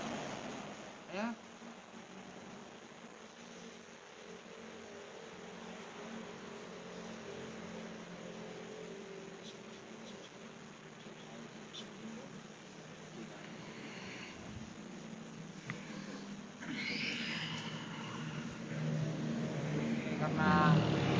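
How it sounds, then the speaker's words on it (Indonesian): Cars and motorbikes passing on the road beside a basecamp: a continuous distant traffic drone with engines swelling louder toward the end as a vehicle approaches. "Karena basecamp kita di pinggir jalan, jadi ada mobil motor mangweng-mangweng jadi kedengeran gitu"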